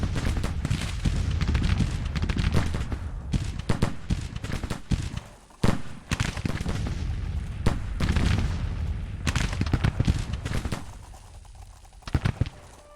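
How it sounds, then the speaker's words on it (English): Four-pound howitzer artillery fires in Grand Tactician: The Civil War, with repeated booming cannon blasts and crackling volleys in a dense, continuous battle din, some shots sharp and near, others duller and farther off. "4-pound howitzers."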